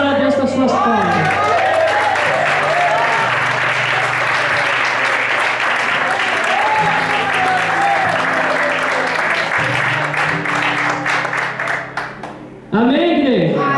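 A church congregation at a worship service claps in praise, a dense wash of hands that goes on for several seconds while a voice speaks and calls out over it, then drops off abruptly.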